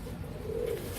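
Pigeons in a loft give a soft, low coo lasting under a second against a faint background murmur.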